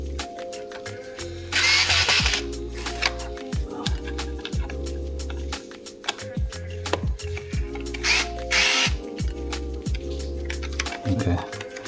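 Screws being loosened on a 2024 Honda Goldwing motorcycle, with bursts of a cordless power driver whirring and clicking close by, several short runs separated by pauses and handling noises, with talk throughout.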